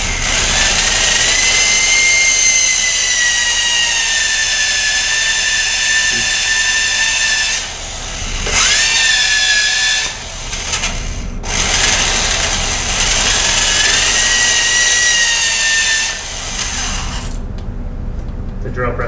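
A power drill bores freehand into a wooden bufflehead decoy body, its high motor whine running loud and close in long steady bursts, dropping out briefly between passes before cutting off near the end.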